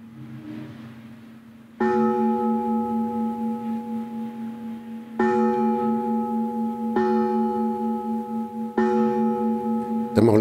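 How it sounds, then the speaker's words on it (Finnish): Church bells from a destroyed church toll in a recording, four loud ringing strikes spaced a few seconds apart, each with a long humming decay, heard alone. "Pysähdyttävä oli kuulla tallenteelta tuhoutuneen kirkon kellojen kumahduksia."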